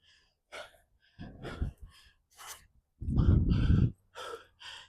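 Heavy breathing during a burpee workout: loud, rough exhales and gasps come in bursts, close to the mic, with short quiet gaps between breaths.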